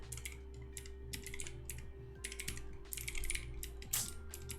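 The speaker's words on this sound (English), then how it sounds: "having problems typing" Keys clatter in irregular bursts on a computer keyboard during a coding session, moderately loud over a steady low electrical hum, with no talking.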